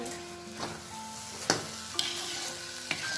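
Pumpkin halwa, a Chhattisgarhi Diwali sweet, is stirred in a pan over a faint steady sizzle, with a few close spatula clicks against the metal.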